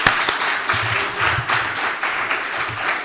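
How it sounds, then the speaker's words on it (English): Audience applause at a crypto industry event, sustained clapping from a sizeable crowd with a few sharper individual claps and faint murmurs underneath. "a big round of applause to all of you"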